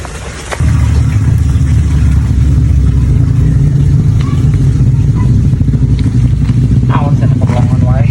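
A motorcycle engine runs loud and close, a steady mid-pitched drone that starts abruptly and holds throughout, with people talking over it.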